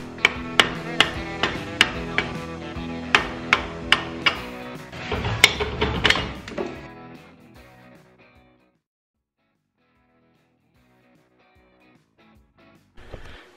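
A hammer strikes a rear brake drum on a 1985 VW Scirocco Mk2 about a dozen times in a steady rhythm, sharp metallic clangs ringing out close and loud, then a long ringing decay into near silence and one last knock.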